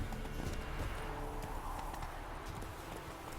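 A horse gallops in The Witcher 3, its hooves drumming a quick, even rhythm that holds steady at a moderate distance with no talk over it.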